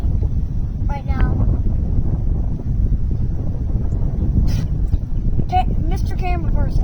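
Strong gusting wind buffets the microphone at a park as a hurricane approaches, a heavy low rumble throughout, with children's voices talking and calling over it.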